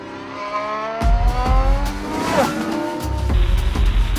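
A Formula 1 race car engine roars and revs close by on a track as it leaves the pits, with rising and falling pitch and a brief tire squeal, loud and continuous throughout.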